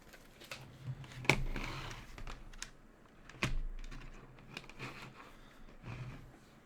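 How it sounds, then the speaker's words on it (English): Someone types on a computer keyboard at a desk while setting up a C++ project, with quiet, irregular bursts of clicking keystrokes and short pauses between them. "Grab the keyboard from across the table."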